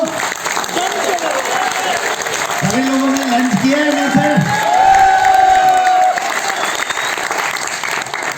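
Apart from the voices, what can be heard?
audience applause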